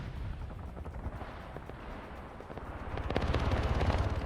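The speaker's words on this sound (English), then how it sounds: "You guys are strafing infantry." Aircraft gunfire strafing infantry in the military video game Arma 3, a distant rumbling rattle of rapid shots under a booming battlefield background that grows louder toward the end.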